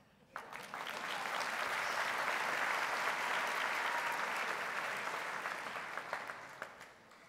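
Applause from a high school commencement audience, a dense sustained wash of many hands clapping that swells quickly, holds steady for several seconds, and slowly tapers off near the end.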